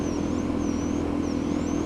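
A Suzuki DRZ 400 motorcycle with a loud stock Suzuki exhaust idles steadily nearby, a continuous low engine drone with no revving.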